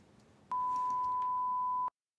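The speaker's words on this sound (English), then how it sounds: "I'm going to start off with a basic sine wave here. I'm just going to play it to you briefly." A pure sine wave test tone, a single steady beep held for about a second and a half, clean and unwavering above a faint background hiss, starting and stopping abruptly.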